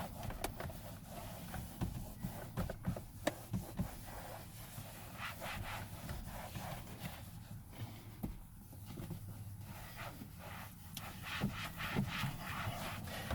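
Towel buffing interior detailer into a car dashboard that has been warmed by the sun, heard as continuous close rubbing and soft scrubbing strokes without talk.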